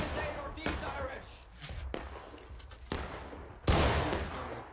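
Musket volleys ring out in the War of Rights video game, several loud broadband cracks spread over a few seconds with the final blast the loudest, while players talk over the gunfire.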